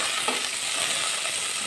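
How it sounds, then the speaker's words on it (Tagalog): Onion and red and green peppers sautéing in a pan with a loud, continuous sizzle and crackle as they are stirred, with no talking. "gisahin natin muna yung mga sangkap para maging mabango yung luto natin"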